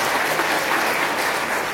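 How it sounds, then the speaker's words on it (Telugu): Wedding guests burst into loud, sustained applause, a dense, even wash of clapping from many hands that holds steady without pause. "గట్టిగా చప్పట్లు కొడుతూ వారిని అర్థించారు"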